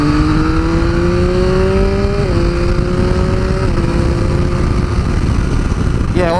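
A 2018 Triumph Speed Triple RS accelerates hard along a dual carriageway, its engine note climbing through two quick gear changes with a steady wind rush underneath, loud and close from the rider's position.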